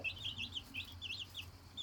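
Two hens with ten chicks, rapid high peeping chirps repeating in quick clusters over a faint low hum, quiet and brief.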